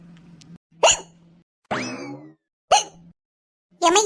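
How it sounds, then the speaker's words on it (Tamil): Several sharp hiccups from a woman sound one after another at irregular intervals, each a short, close, voiced gulp separated by brief quiet gaps. "விக்கல் வந்தா தண்ணி குடி."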